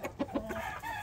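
Rooster clucking in short repeated bursts, close and fairly loud, with a few rhythmic clucks over about a second and no talking.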